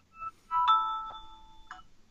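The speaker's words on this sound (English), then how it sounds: "So, that was my phone." Mobile phone ringtone, a short melodic electronic chime of a few tones, faint and close in a quiet room.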